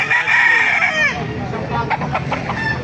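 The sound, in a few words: chickens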